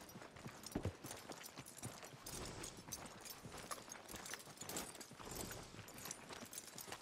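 Horse hooves clip-clop at a steady walking rhythm in Red Dead Redemption 2, moderately faint against rustling outdoor game ambience.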